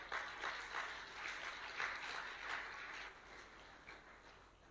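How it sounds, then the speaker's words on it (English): A church congregation applauding during an ordination service, soft, distant clapping swelling in uneven waves and then thinning out toward the end. "Come on, congratulate yourself with a clap offering."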